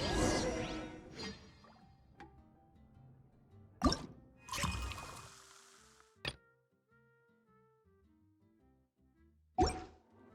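Water poured into a drink in a video game, a few distinct plops and splashes separated by quiet gaps, with soft chiming game tones in between.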